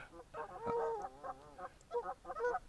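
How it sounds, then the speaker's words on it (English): Geese honking and squabbling close by, a rapid string of harsh nasal honks in several bursts over a few seconds, heard alone without speech. "These geese are insane, aren't they?"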